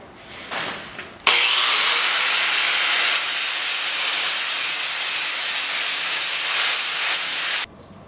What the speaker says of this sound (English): Cut the rough edges with the grinder